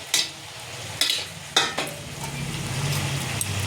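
Fried fish being added to a vegetable curry and stirred, three sharp scrapes and clatters of a spatula against the pan followed by a soft, steady sizzle, close by with no talking.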